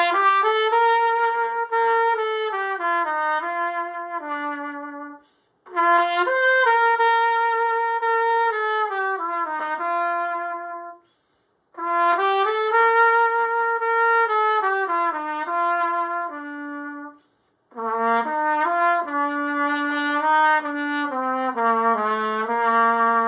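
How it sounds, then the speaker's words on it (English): A brass cornet plays four clear melodic phrases, each a few seconds long and separated by short pauses, bright and sustained on its own without voices. "The cornet is shorter than the trumpet and is designed for a marching band or a brass band."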